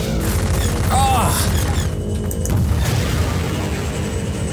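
A booming rocket impact hits a dropship in Half-Life 2. The deep, rumbling blast rolls on under heavy game noise with mechanical clatter.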